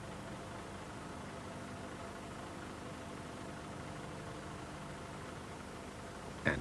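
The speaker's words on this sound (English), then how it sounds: "The idling speed should be set to 600 RPM." A Cummins L10 diesel engine in a Leyland Olympian bus idles with a faint, steady hum, and a brief knock sounds at the very end.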